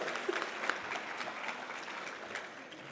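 A conference audience of teachers applauds in a large hall, producing a sustained wash of many hands clapping at moderate loudness, steady throughout with a faint murmur beneath.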